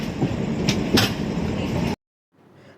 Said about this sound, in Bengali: বসার সাথে সাথেই ট্রেনও ছেড়ে দিল